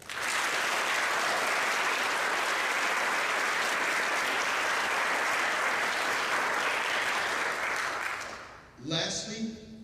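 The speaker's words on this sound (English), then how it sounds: "Please join me in a round of applause." Sustained audience applause at a high school JROTC awards ceremony, loud and steady for about eight seconds before fading out into a brief voice.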